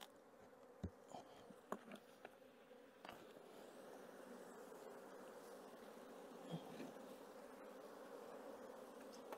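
Bees from a strong swarm hum steadily in a hive, a continuous low buzz with a few faint knocks early on, moderately close.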